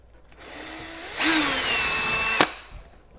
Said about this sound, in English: pre-drill right in the center here